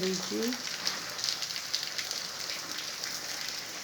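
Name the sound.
heavy rain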